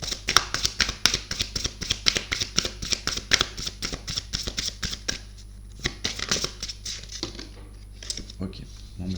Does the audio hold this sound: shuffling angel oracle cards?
yes